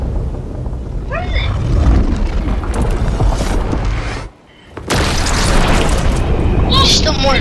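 In Fortnite, a rocket launches with a loud, sustained roar and explosive booms lasting several seconds, dropping briefly to near silence before the rumble resumes, while players shout excitedly over it.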